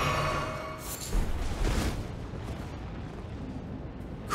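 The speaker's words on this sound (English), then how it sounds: "that thing kept shooting at me" Gunfire from an enemy in Elden Ring, a dense rumbling burst of shots and booms that swells around the middle and tails off into a low roar, with a sharp pop at the end.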